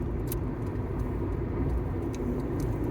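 A car cruising on the elevated I-10 freeway through the Louisiana swamps between Baton Rouge and Lafayette, a constant low road and engine rumble from inside the cabin with faint clicks on top.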